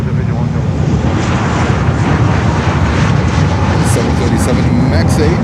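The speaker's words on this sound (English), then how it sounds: "WestJet Canada coming in, 737." A WestJet Boeing 737 MAX 8 comes in to land at Fort Lauderdale airport, a steady broadband engine roar holding loud and constant throughout, with wind buffeting and a voice talking over it.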